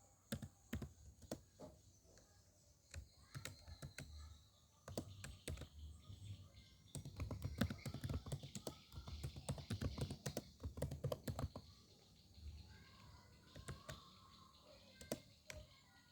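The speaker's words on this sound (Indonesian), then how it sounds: "kita ketik dulu." Code typed on a computer keyboard, irregular runs of quick key clicks with short pauses, close and fairly quiet, no talking.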